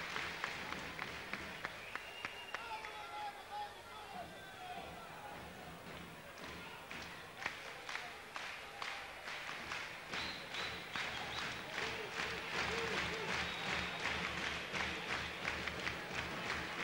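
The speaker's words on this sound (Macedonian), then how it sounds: "Со аплаузи ја пречекуваат секоја негова акција" A crowd at a 1995 European Cup wrestling semifinal applauds a wrestler with steady, rhythmic clapping that keeps a regular beat and builds slightly toward the end, sounding somewhat distant and soft.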